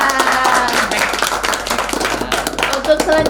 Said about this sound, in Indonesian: Tepuk tangan buat Rasya.